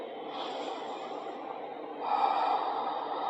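Slow, deep breaths during a yoga class: a long airy exhale followed by a stronger, fuller breath through the nose, close and clear with no talking.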